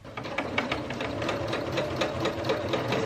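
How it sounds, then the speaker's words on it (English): Sewing machine stitching a rolled hem with a rolled hem foot on thrifted bedsheet and curtain fabric, a steady close mechanical whir with rapid needle clatter running the whole time and no talk. "I put down the needle and then I roll it into the presser foot just like that."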